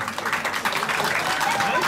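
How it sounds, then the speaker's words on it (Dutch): Steady crowd applause for two kickboxers at the end of a bout fills a fight venue as a continuous dense patter, with a voice audible over it. "Dames en heren, mag ik een groot applaus voor beide vechters."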